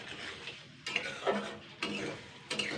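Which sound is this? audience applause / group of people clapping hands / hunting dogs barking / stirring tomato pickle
stirring tomato pickle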